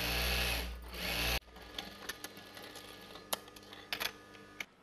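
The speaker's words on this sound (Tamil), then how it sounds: "இன்னொரு தையலும் போட்டுக்கலாம்." A sewing machine stitching a Patiala pant runs in a steady loud whir for over a second, then stops, leaving faint clicks and handling taps nearby.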